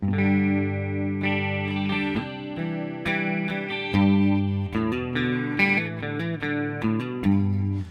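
A clean electric guitar plays a melodic run of picked notes and chords through a Line 6 Helix Jazz Chorus amp model and a 2x12 open-back Celestion V30 cabinet, with light delay and reverb trailing each note.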